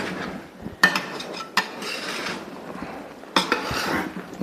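A spoon scrapes and knocks against a metal pot while spiced amla pickle is mixed with masala, giving close, uneven clinks and scraping strokes with a few sharper taps.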